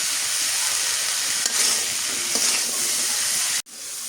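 Potatoes and long green beans fry in a pan with garlic paste in a village kitchen, giving a steady, close sizzle and hiss, with a couple of faint stirring knocks and a sharp clack near the end.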